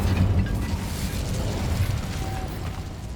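A fire spell cast in the video game Hogwarts Legacy, a dense crackling burst of flame with a low rumbling boom at the start, sustained and loud over about three seconds before slowly tapering.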